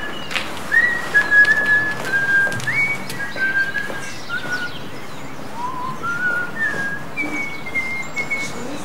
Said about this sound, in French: Moi, je siffle tout le temps, moi.